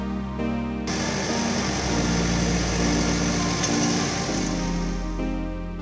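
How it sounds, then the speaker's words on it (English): Tractor fitted with forks moving a 380-pound hunting stand, its engine running steadily and close by, a loud continuous drone with slight rises in pitch and no talk. "We use forks on the tractor to move the stand"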